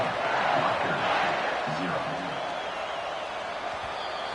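A packed football stadium crowd at Notre Dame, playing Rutgers, roars right after a touchdown and extra point as the kickoff goes out. The cheering is a loud, dense, sustained roar that eases slightly but never drops away.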